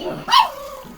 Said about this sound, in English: Oh God, if you dogs don't stop.